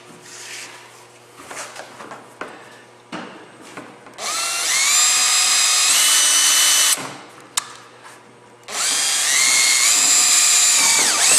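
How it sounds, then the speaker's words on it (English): A power drill whines through the plastic cowling of a 2015 Polaris 900 Trail in two sustained bursts, its pitch shifting as it bites, separated by quiet handling clicks and taps. "Drill them out to one size over 1/4 inch."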